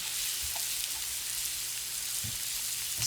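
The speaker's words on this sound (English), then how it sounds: "I'm going to put some onion in there, diced onion." Diced onion sizzles in sesame oil in a pan, giving a steady, even frying hiss heard close up with a few soft stirring bumps and no speech.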